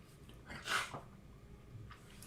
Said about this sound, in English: Oh my gosh, I'm sneezing, guys.